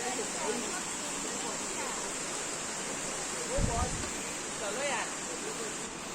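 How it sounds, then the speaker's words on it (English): A small waterfall near Rainbow Falls in Meghalaya gives off a steady, broad rushing hiss that fills the whole stretch, with faint voices briefly heard beneath it. "There is a small waterfall falling down."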